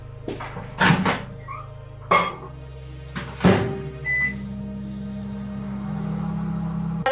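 A kitchen microwave oven heating a cup of water: a few cupboard-like clunks and door thuds up front, then a steady low hum running for the last few seconds.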